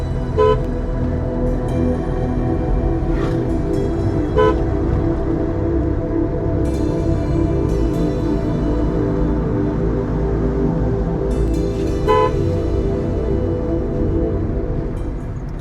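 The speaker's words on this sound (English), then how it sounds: "every bend and corner, it's always advised to give a horn, so that the oncoming traffic is aware of that a vehicle is approaching" A vehicle horn toots in short bursts on the bends of a winding mountain road near Kolab Dam in Koraput, repeated a few times over a steady, loud engine and road rumble.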